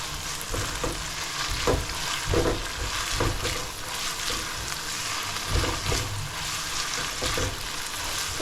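Garlic and onion sautéing in a hot pan, a steady loud sizzle broken by repeated scraping stirs at a fairly regular pace, with no talking over it.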